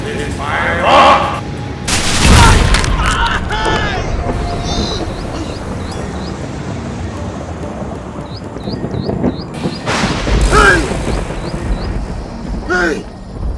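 Gunfire erupts in a Nollywood film scene after an order to fire: several loud, sharp bursts of shots and blasts scattered across the scene, with voices shouting in between.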